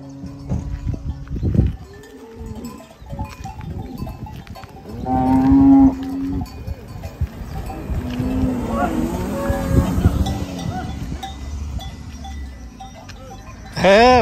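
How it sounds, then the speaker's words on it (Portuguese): Dairy cattle on a rural road in Serrita, Pernambuco, Brazil moo loudly and repeatedly up close while cowbells clank, with people talking throughout. "as vacas foram desleitadas e tem que ter um cuidado danado na passagem aqui"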